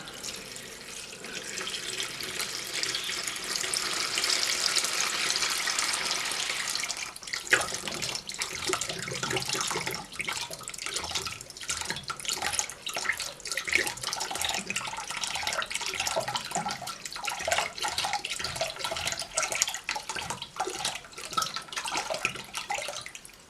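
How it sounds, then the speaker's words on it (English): Water rushes steadily through a Fernox TF1 central heating filter being flushed, a loud continuous hissing gush that grows rougher and more turbulent partway through, with gurgling and splashing detail and no talk. "it filled this back up, flushed it through, and when I turned it off you could hear it still glugging as it was emptying"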